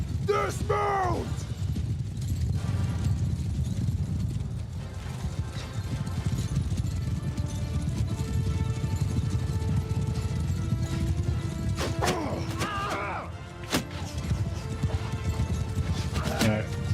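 Cavalry horses gallop in the video game War Sails, a dense rumble of hooves pounding steadily through continuous battle noise, with brief horse whinnies and occasional voices.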